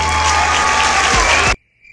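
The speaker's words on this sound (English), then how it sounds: "Give a round of applause for the Gig Dollar Man." Applause from an audience honouring a gig-economy figure fills the space loudly and steadily, with a music bed beneath, then cuts off abruptly into near silence with a faint tone.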